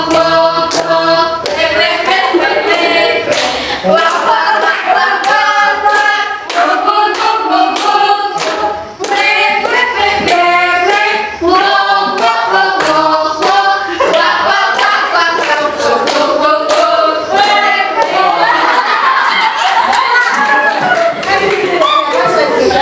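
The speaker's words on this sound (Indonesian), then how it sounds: "Kita beri tepuk tangan untuk kita sendiri." A class of students claps together in a classroom, a loud rhythmic hand-clapping pattern with repeated beats and pauses, accompanied by voices chanting along throughout.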